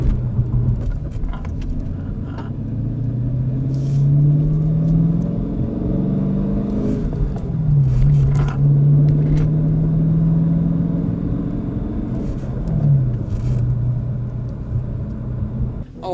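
A car engine pulls hard under acceleration while driving, with a loud, steady droning rumble that climbs in pitch through several gear changes, recorded from inside the cabin.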